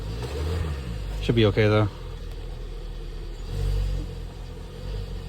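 A cold car engine runs at an auction preview with a low, steady rumble and slight mechanical noise; a person speaks briefly over it.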